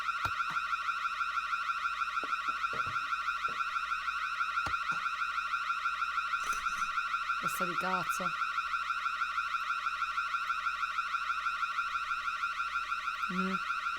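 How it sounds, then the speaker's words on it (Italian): A looping electronic anti-theft security tag alarm in a video game sounds continuously and loudly with a steady pulsing tone throughout, while a voice speaks briefly over it and short knocks and clatters occur. "ora farò tacere questo allarme"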